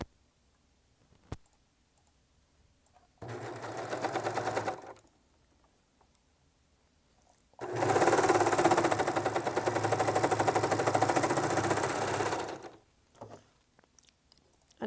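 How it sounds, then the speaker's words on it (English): A serger overlocker sews a shoulder seam on a blouse in two bursts, one short run and then a longer five-second stretch of fast, buzzing stitching between quiet pauses. "I'm going to go ahead and serge that seam."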